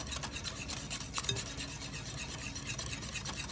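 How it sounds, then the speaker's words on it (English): Mustards being stirred into a dressing in a bowl, with a steady scraping and rubbing of a utensil against the bowl, close and continuous with a faint clink partway through. "So we're going to mix in our mustards"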